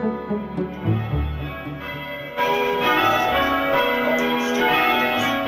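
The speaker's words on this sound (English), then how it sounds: "The tower houses 6 bells dating back to the 1600s, and here in 2004 the campanologists are still using them." Six church tower bells dating from the 1600s are rung by bell ringers at practice, loud overlapping peals with rich ringing overtones building into a dense, sustained clangour.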